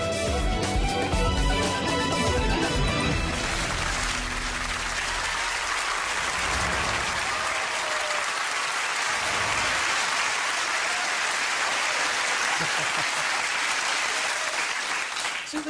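Studio audience bursts into sustained applause and cheering at a televised celebrity interview, a dense, loud wash of clapping that starts after a brief voice and carries on steadily to the end.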